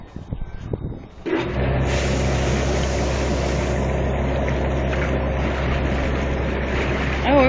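Air blowers churning water in a wastewater treatment aeration tank, a steady low rumbling roar with bubbling turbulence that starts abruptly after a brief quieter moment and continues close and even.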